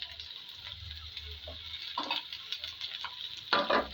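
Bitter gourd and potato fry in a pan with a soft, steady sizzle while a spatula stirs and scrapes at intervals, including a louder clatter near the end, heard close up without speech.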